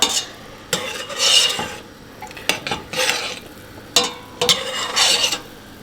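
A spoon stirs and scrapes shallots and thyme in a pan in a few irregular bursts, close, with some faint sizzling between strokes and no talking.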